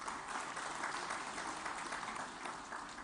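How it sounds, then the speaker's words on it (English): Sustained audience applause at the Plastindia 2023 launch event in a hotel hall, steady dense clapping for about three seconds without voices. "may I hear a big round of applause for this"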